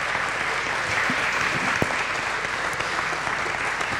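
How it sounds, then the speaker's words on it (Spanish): Steady, dense applause from a conference audience for the speakers at the close of a day's sessions, sustained at an even level throughout with a few sharper claps standing out. "Les damos un fuerte aplauso a todos los expositores."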